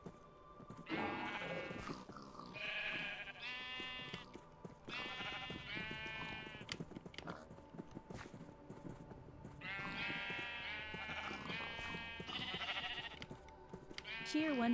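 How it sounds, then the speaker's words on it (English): Several sheep bleat repeatedly in Minecraft Stoneblock 4, wavering calls overlapping in bursts close by, over game sounds with a person talking quietly underneath. "Can I get this sheep out of here?"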